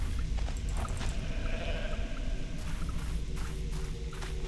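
Goat bleats from the video game Goat Simulator ring out over a dense, steady wash of game ambience, with a few wavering cries rising in the first couple of seconds.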